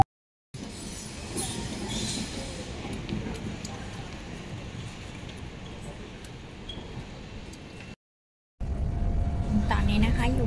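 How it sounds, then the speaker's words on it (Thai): Steady low rumble and rattle from the interior of a moving train in England, continuous and even, with a brief silent gap before the noise resumes louder. "ตอนนี้นะคะอยู่บนรถไฟในประเทศอังกฤษนะคะ"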